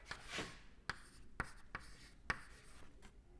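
Marker or chalk writing on a lecture board during a thermodynamics class: five or six sharp, brief strokes and taps with gaps between, close and moderately loud, no voices.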